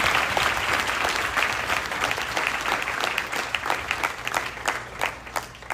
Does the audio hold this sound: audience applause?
yes